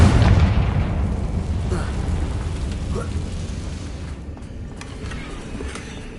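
A Confringo blasting spell detonates against a damaged bridge in Hogwarts Legacy, hitting with a loud, deep boom at once and trailing into a long, fading rumble with scattered crackles and debris.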